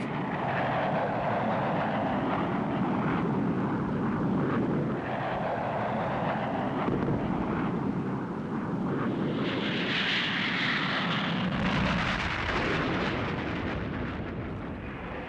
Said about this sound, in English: Then out came the heavy American metal and supersonic jets.